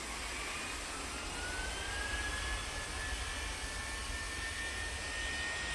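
A JetBlue jet takes off in the Tower Simulator 3 video game at Rhode Island T.F. Green International Airport, a loud steady engine roar with a rising whine throughout.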